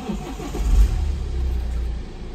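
A BMW 318d Tourer diesel turns over and catches at once, settling into a steady, close low rumble and idle after a brief surge, with no voices.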